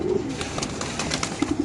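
Caged pigeons at a market coo and rustle close by, with a few short coos at the start and a quick cluster near the end over a busy background.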